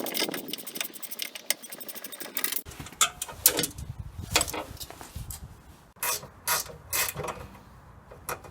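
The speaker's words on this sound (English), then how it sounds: "Four bolts holding the entire case on to the thing, so I'll take them off." Four bolts being loosened and removed from the case of a scrap Watt motor, with repeated close ratcheting clicks and metallic rattles in short bursts, no talking.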